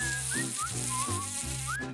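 Mosquitoes buzz loudly and close on a hike, a continuous whine that wavers in pitch.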